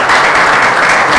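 Loud, close applause from an audience at a political party meeting, a continuous dense patter of many hands filling a brief moment.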